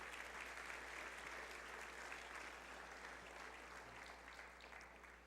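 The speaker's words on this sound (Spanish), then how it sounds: "Dele ese aplauso al Señor" A church congregation applauds during a sermon, producing a continuous wash of many hands clapping at a steady level. The applause is heard faintly over a low hum and fades slightly toward the end.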